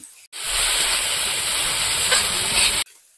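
Ground garlic, cumin and coriander paste hits a hot pan and sizzles loudly in a steady hiss for about two and a half seconds, then cuts off abruptly.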